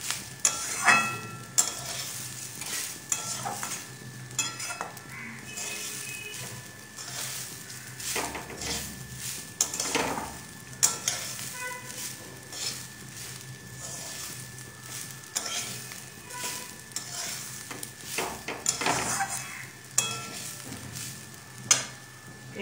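Rice frying in a pot with oil for vegetable khichuri, stirred again and again, giving a continuous sizzle broken by repeated scraping and clinking of a spoon against the pot, close and fairly quiet, with no talk.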